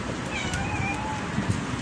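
A hungry cat meows a few times at close range while being fed outdoors near a restaurant, over steady wind and background noise.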